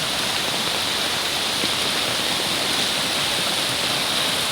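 Floodwater rushes through a neighborhood near Marikina, a steady, loud, broadband roar that runs unbroken like a close waterfall, with no voices over it.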